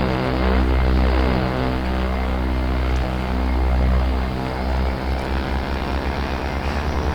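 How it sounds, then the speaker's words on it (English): An OV-10 Bronco twin-propeller plane taxis in the DCS World flight game, its engines droning loud and steady with a pulsing, slightly wavering hum throughout. "so we'll be taxiing out to the runway"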